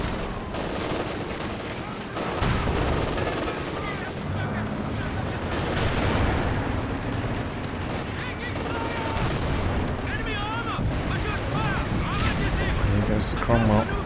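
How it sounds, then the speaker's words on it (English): Rapid bursts of small-arms and machine-gun fire crackle from a squad shooting at a Panzer IV in the video game Company of Heroes 2, with battlefield blasts mixed in and a commentator talking over the steady gunfire. "One squads there actually shooting at the Panzer IV."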